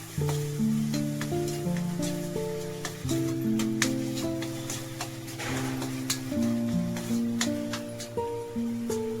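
Kashmiri red chili powder and kitchen king masala frying in a pan while being stirred, a continuous close sizzle broken by repeated clicks and scrapes of the spoon, with a steady hum underneath.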